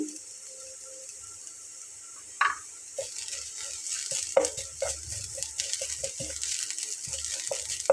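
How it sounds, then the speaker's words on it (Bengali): Onions frying in a pan with a pinch of whole cumin seeds added, a soft, steady sizzle with light clinks and scrapes growing busier partway through. "পেঁয়াজটা একটু হালকা লাল লাল করে ভেজে নিয়ে তারপরে আমি এর ভেতরে 1 চিমটি পরিমাণ গোটা জিরা দিয়ে নিচ্ছি"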